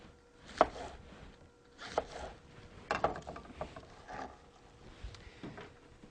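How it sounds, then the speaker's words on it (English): A knife cutting cabbage into shreds by hand for sauerkraut, making four or five separate bursts of crisp chopping spaced about a second apart, moderately close with quiet pauses between. "just use a knife and cut all the shreds from your cabbage by hand"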